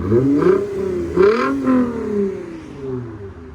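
A 2008 Lexus IS 250 with a 2.5L V6 and a Valvetronic Designs universal muffler revs hard in three quick blips close by, the exhaust note rising and falling before easing back toward idle.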